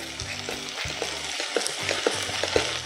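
Butter chicken masala fries in a pan and is stirred repeatedly. Loud, steady sizzling runs under regular scraping strokes of a spoon, heard close with no speech.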